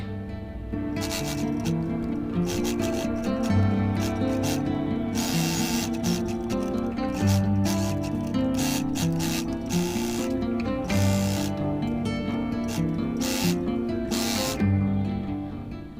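Sewing machine stitching the fabric of a cosmetic travel pouch, a steady close mechanical whir running throughout with repeated short bursts of faster stitching and brief pauses.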